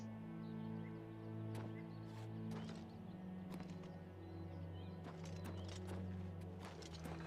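Horse hooves clip-clop at a steady walking pace in the video game Oblivion Remaster, clear and close, with a low droning game ambience underneath and no speech.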